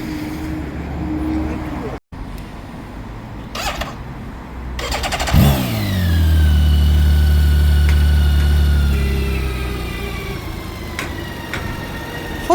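A BMW K1600GT touring motorcycle's 1649cc six-cylinder engine starts up close by partway through, then settles into a smooth, steady running hum that holds to the end, with quiet background noise before the start.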